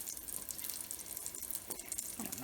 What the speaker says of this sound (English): And now we're gonna do some deglazing.